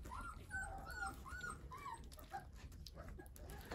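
A seven-day-old Rottweiler puppy whimpering while struggling to feed from a bottle with a flat nipple: a quiet, close series of high, wavering whines and small yips.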